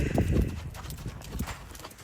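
Hoofbeats of a Spotted Saddle Horse moving in a smooth gait, a quick even run of soft clip-clop thuds close by, with no talking.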